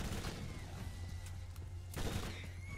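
Gunfire in the Borderlands game as rakk, winged creatures, are shot down: a rapid, dense crackle of shots rattles continuously, with a heavier burst near the end and no talking.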